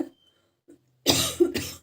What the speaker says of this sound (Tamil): சாரி, இருமல் வந்துடுது